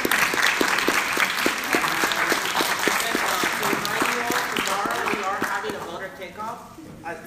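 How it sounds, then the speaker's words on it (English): Audience applauding the panelists at a 2017 student association election candidate debate, sustained steady clapping from a sizable crowd at close range, fading slightly toward the end. "One more, round of applause for our panelists."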